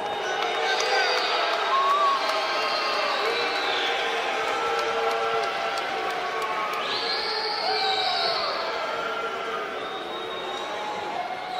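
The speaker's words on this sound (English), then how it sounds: "Why they booing my man?" A boxing arena crowd after a World Boxing Super Series super lightweight bout roars and jeers in a sustained, dense wash of voices, with shouted calls rising above the mass throughout.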